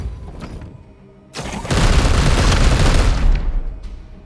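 Gunfire in the video game Warhammer 40,000: Chaos Gate - Daemonhunters starts with a few scattered shots, then erupts into a loud, dense burst of rapid fire and booms that holds for about two seconds before tapering off.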